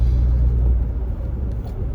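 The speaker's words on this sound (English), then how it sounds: "traffic's at a standstill now" Low, steady road rumble heard from inside a car in stopped traffic, a dull engine and tyre drone filling the cabin for a couple of seconds with no talk.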